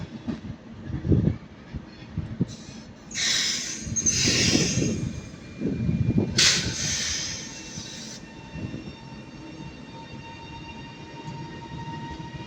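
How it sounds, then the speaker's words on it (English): A TransPennine Express train, unit 397, at Manchester Piccadilly station, rumbling at low pitch with bursts of brake hiss and squeal in the middle, then a steady quieter drone, no talk. "it's going to be 39702, working the 1328 Transpennine Express service to Manchester Airport"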